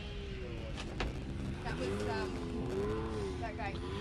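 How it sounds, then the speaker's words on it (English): A Can-Am UTV race car pulls away from the start line of a championship qualifying run at Chocolate Thunder, its engine rising and falling in pitch at a distance, partly under someone talking nearby. "I just heard that next car leave"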